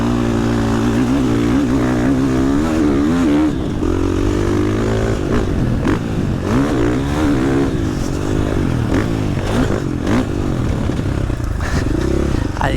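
A KTM 450 SMR supermoto engine revs and pulls on a motocross track, its throttle surging and easing in waves, loud and near throughout with rattles from the bike.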